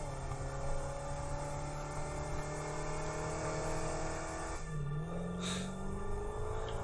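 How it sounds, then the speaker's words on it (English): A vehicle engine in the video game Satisfactory hums at a steady, unchanging pitch, a constant mechanical drone with a brief whir and pitch sweep near the end. "the engine sound didn't change at all"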